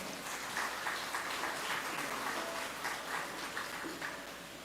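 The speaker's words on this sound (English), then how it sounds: "let's give him a round of applause." Steady applause from a crowd at a Divali dinner and cultural event in Mayaro, dense clapping sustained throughout and slightly fading toward the end.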